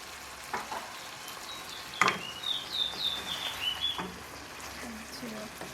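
Glazed jerk chicken gets stirred in a pot, with a soft sizzle and scraping spoon strokes throughout, one sharper knock near the start, and a light high squeak running over the bubbling sauce.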